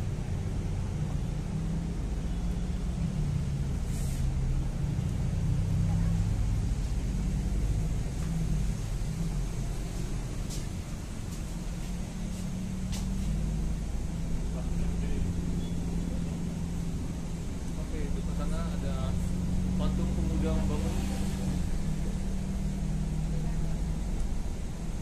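Low, constant engine rumble and road noise inside a moving Jakarta city bus, heard from within the cabin, with occasional rattles and clicks and someone talking quietly now and then.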